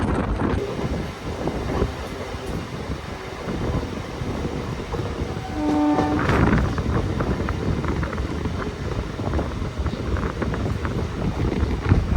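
Coimbatore-Shornur MEMU passenger train running through open paddy fields near Parali station, a steady loud rumble of wheels and carriage noise with wind buffeting the microphone and a brief tonal whine midway.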